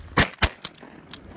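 Shotgun blasts while duck hunting for geese and mallards, two sharp loud reports close together near the start, then a fainter shot and a distant pop trailing off outdoors.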